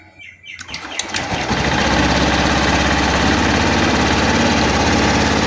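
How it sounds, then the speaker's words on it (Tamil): A Honda Dio/Activa BS6 scooter engine cranks and starts, then settles into a steady, loud, close idle after valve adjustment. "வண்டி இப்போ ஸ்டார்ட் பண்ணி பார்க்கலாம்"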